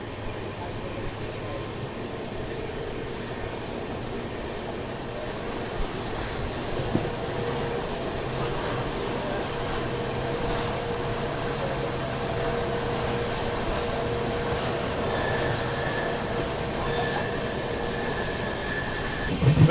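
A passenger train rolls along the ghat section route out of Madgaon, a steady broadband rumble of wheels and carriages with faint squeal tones, continuous and moderately loud throughout with a brief louder burst at the end.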